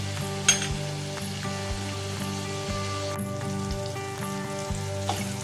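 Tomatoes sizzle and fry steadily in a pan while an egg masala gravy is cooked, a continuous close crackle with periodic low thumps and no talk.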